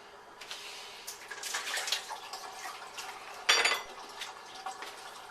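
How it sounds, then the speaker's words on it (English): A cooked whole chicken is lowered into a big mixing bowl of ice water at a kitchen sink, with splashing, sloshing water and clinking ice and bowl sounds, including one sharp clatter, close by and without speech. "I'm going to take it over to the sink and put it in a big mixing bowl that I have ice water in."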